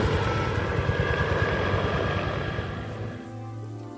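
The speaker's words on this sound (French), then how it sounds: "Et l'hélicoptère qui revient me chercher? Je l'entends, il revient, mais il peut pas se poser!" Helicopter rotor thumping loud and steady overhead as it returns, a dense rhythmic chop that holds and then thins out near the end.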